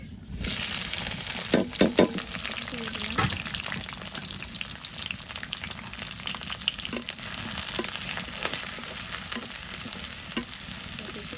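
Chopped onion and chili frying in a pan with whole cinnamon, cardamom and cloves, for a chicken and bottle gourd curry: a loud, steady sizzle with scattered stirring scrapes and clatters throughout.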